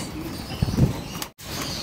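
Racing pigeons in a loft give a low, close coo, followed by a brief rustle of wings, against faint background noise.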